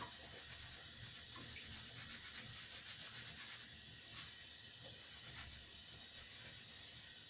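Steady water runs from a tap while a rabbit cage is scrubbed clean with soap, a continuous broad hiss with faint clatter and no voices.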